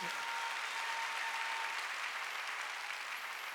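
Church congregation applauding during a Korean Sunday worship service, a dense, continuous roar of many hands clapping at steady loudness throughout.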